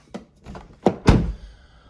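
A Lexus LS460 car door with a faulty soft-close function swings shut in a few dull thunks, the last and loudest landing near the end with a short heavy clunk, close by and with no talking.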